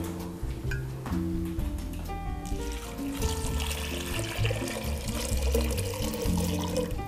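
A jug of water poured into a container, a steady splashing gurgle with rising tonal filling notes over several seconds, heard over a background of music.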